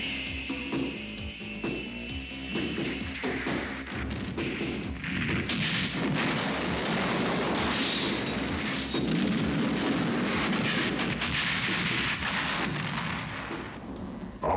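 Cartoon explosions destroy the secret base in Ghost City in the animated series G-Force: Guardians of Space, a loud, continuous roar of rumbling blasts and crackling debris that never lets up.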